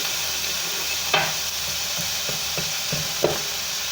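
Ground hamburger meat with onions and peppers browns in a pan, a steady sizzle running throughout with a few sharp scrapes and clinks of a stirring utensil, no voices.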